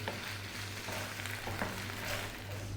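Whole fresh basil leaves stirred into goat cheese pasta in a pan just off the heat, a soft continuous sizzle with faint spoon scrapes, close and steady, no speech.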